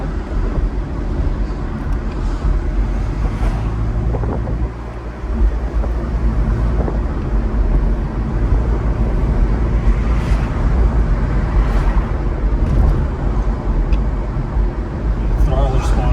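A 1986 Volvo 240 on a test drive, its engine and road noise forming a steady low rumble from inside the cabin, with someone talking over it throughout.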